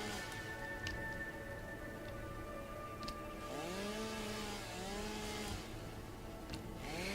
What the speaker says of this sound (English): The reason why I am using the chainsaw on the low bushes is to get rid of the surrounding foliage around it as well